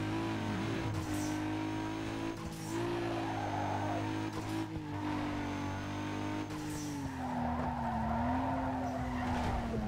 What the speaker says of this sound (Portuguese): Esses drifts da montanha que eu sou horrível.